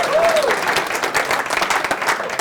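Audience at a club luncheon talk breaking into loud, sustained applause, dense clapping from a roomful of people with a brief voice rising through it near the start.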